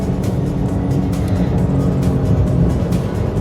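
A Porsche on a race track under full throttle, its engine roaring loudly and continuously from close by with a steady, powerful drone and no talk over it.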